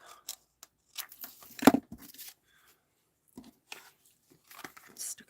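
Scissors snip through craft tape at a scrapbooking table, a few quick, close, quiet cuts and crinkles scattered between pauses.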